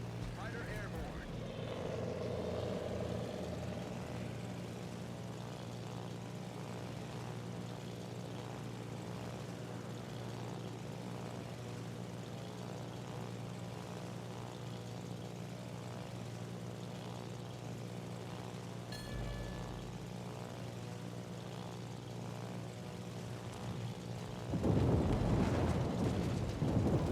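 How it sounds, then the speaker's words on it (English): Fighter planes from the USS Enterprise carrier in World of Warships give off a steady propeller drone at moderate level, with a louder burst of noise near the end. "Fighter airborne."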